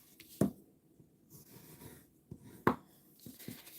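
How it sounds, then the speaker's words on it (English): Paper card base folded and burnished by hand: two sharp creasing snaps followed by soft rubbing and sliding strokes across the paper, close and quiet. "So let's fold and burnish"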